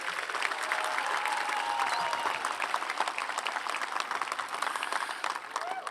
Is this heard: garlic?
no